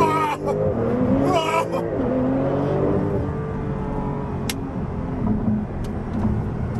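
A 2021 Porsche 911 Turbo S pulls away hard from a traffic light, its engine note rising in a loud, steady surge with rising harmonics, heard from inside the cabin with a short clicking burst.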